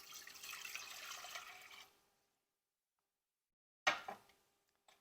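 Two cups of water are poured into a cooking pot for a tea egg marinade, a steady splashing pour that stops abruptly, followed after silence by a few brief clanks and drips.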